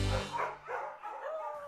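A puppy gives a short run of yips and whimpering barks, close and fairly soft, with a brief low thump at the start and no talking.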